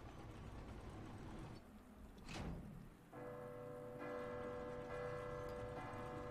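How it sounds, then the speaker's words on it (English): A bell in Resident Evil 2 Remake sounds partway through and rings on with a sustained, humming tone over steady rain-like noise, with no talk. "Bell rings, the electronic part gets knocked down."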